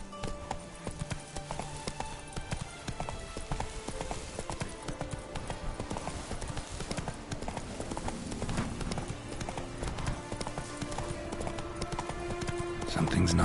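Roach the horse trots steadily through The Witcher 3: Blood and Wine, hooves clip-clopping in an even rhythm beneath layered game music and ambience, with speech-like voices mixed in.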